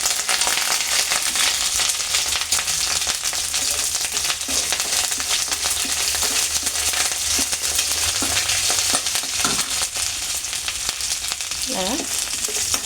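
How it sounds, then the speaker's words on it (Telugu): Tempering spices crackle and sizzle steadily in hot oil, loud and continuous, with occasional stirring scrapes throughout. "పోపు సరుకులన్నీ బాగా వేగాలి"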